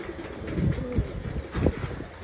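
Pigeons coo softly nearby in a few low throaty bursts, with faint rustling between calls and no talk.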